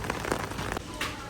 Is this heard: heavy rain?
yes